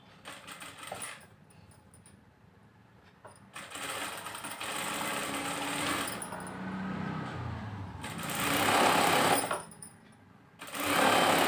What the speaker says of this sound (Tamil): ஜஸ்ட்டு இது மேலே ஒரு தையல் போட்டாலே போதும்.